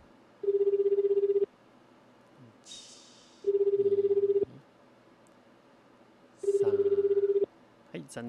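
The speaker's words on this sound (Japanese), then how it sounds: "静岡の実行委員の方にも電話してみましたけれども" A telephone rings out during a call to a Shizuoka committee office, three long buzzing ring bursts spaced about three seconds apart, with faint chirps and clicks between them and no answer.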